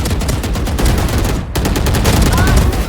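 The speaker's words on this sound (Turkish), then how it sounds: "Onu dönüyorum onu vuruyorum." Loud, dense automatic gunfire from a shooter video game crackles in rapid repeated bursts throughout, broken only by a very brief gap midway.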